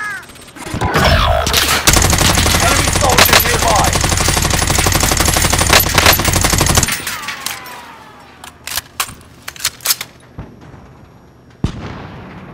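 Gunfire in Call of Duty: Warzone, a loud, sustained stretch of rapid automatic fire. It then gives way to scattered single shots and short bursts, with brief in-game voice callouts.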